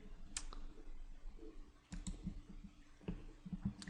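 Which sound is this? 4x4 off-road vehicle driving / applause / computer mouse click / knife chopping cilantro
computer mouse click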